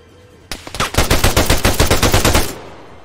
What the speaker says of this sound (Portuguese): tô ouvindo tiro, véi.